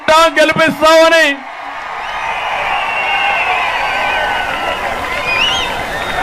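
A crowd at a political rally bursts into loud cheering and clapping right after a man's amplified speech, a dense sustained roar of applause and whoops filling the space, with a few high shouts rising near the end.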